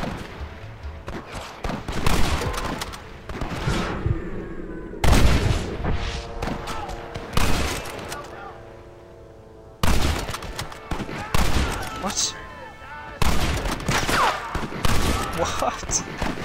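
Repeated gunfire and booming shots in the Western video game Red Dead Redemption, loud bursts and volleys recurring across the whole stretch, with a player talking over the action.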